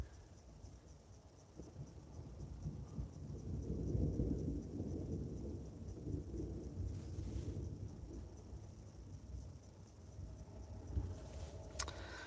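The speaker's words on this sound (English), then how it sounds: "there's a peal of thunder high above us" Thunder rolls high above during an approaching storm in Burgundy, France: a low, distant rumble that swells midway and slowly fades against a soft outdoor background, with no speech.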